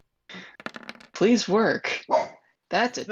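A pet dog barks in the room, several sharp, close barks and yips in irregular bursts, with a person talking just before.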